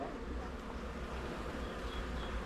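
Honeybees hum steadily at an open hive during a beekeeping session, a dense, continuous, fairly faint buzz that holds even and unbroken throughout.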